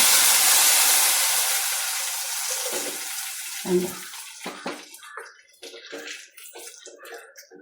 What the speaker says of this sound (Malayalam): നമുക്കിനിയും കറിക്കകത്തോട്ട് ഒഴിക്കാം